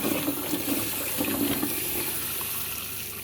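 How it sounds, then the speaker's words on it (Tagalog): Tap water runs steadily over a coconut being washed in a kitchen sink, a close, continuous rushing splash throughout with no speech. "Lahat po ng mga ingredients kailangan natin hugasan. Tulad nitong nyog."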